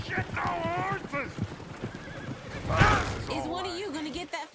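Horses whinny and neigh in Red Dead Redemption 2 over the clip-clop of hooves, the calls loud and rising and falling; a voice speaks over the animals partway through.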